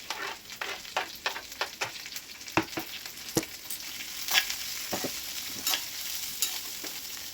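Onion curry mixture for tiffin-center poori curry being stirred in a pan, a regular run of spoon scrapes and taps over a soft sizzle, fairly close with no talk.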